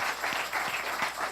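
A short burst of crowd applause from a church congregation, many hands clapping together in a soft, steady patter at moderate distance.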